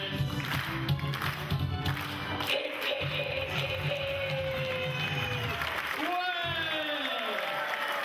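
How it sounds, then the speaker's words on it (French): An audience at a live public show claps steadily throughout, a dense wash of applause under a voice speaking over it, with a sliding tone near the end. "On applaudit très fort l'animateur."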